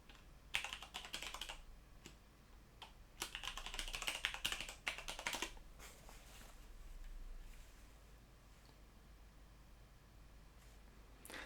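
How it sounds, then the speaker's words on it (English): Password typed on the keyboard of an Alienware Alpha Intel i3 4130T mini PC: two quick bursts of soft, rapid key clicks separated by a short pause, then quiet hiss. "I'm simply going to type on the keyboard for the password part"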